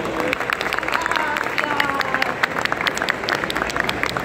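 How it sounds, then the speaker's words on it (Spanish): At Expo Cannabis 2024, an audience greets a doctor arriving on stage with brisk, close applause: many individual claps rattling throughout, with a little crowd murmur and some cheering mixed in. "la recibimos con este aplauso"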